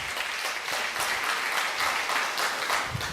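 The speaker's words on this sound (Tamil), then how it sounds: "நல்ல கைத்தட்டி ஆமேன்னு சொல்ல" A church congregation clapping together during a worship service, a steady rhythmic wash of many hands at moderate volume throughout.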